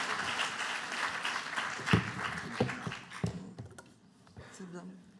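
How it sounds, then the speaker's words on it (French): Audience at a French cystic fibrosis science conference plenary applauding a speaker, a fairly quiet, brief round of claps that fades, with a voice speaking over it near the end. "on peut l'applaudir, hein"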